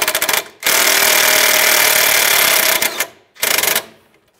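Power tool driving the starter bolt tight on a 1998-2010 Volkswagen Beetle, a loud rapid rattling burst held for about two seconds, followed by a shorter second burst after a pause.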